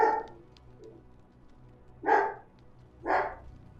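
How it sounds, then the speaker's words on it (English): A dog barks three times: one bark at the start, then two sharp barks about a second apart, fairly close, over a low steady background hum. "Dog was going off."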